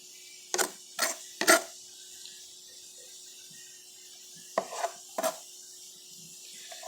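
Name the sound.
cutting tomatoes with a sharp knife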